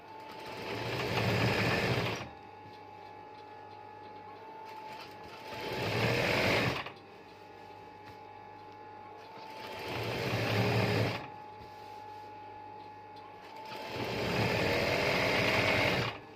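Sewing machine stitching along the edge of a bed sheet, running in four separate bursts of about two seconds each, with quiet pauses between them; close and fairly loud, no talking.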